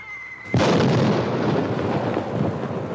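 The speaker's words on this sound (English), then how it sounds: "That ain't thunder, that's cannon fire." A sudden heavy boom of cannon fire in a western TV drama bursts in after a brief quiet hum, then rolls on as a long, loud rumbling roar.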